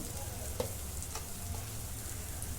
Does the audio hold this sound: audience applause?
no